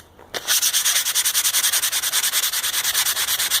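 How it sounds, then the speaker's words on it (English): Steady back-and-forth rasping of 100 grit sandpaper on a wooden bow, close and loud, with rapid regular strokes continuing throughout after a brief quiet start. "So how do we fix that? Well, 100 grit sandpaper."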